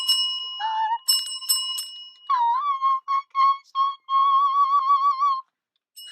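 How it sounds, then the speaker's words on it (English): A bright bell chime rings as a notification sound effect, with repeated tonal dings and a wavering ringing tail over about five seconds, loud and clear with no talking. "don't forget to turn on the notification bell"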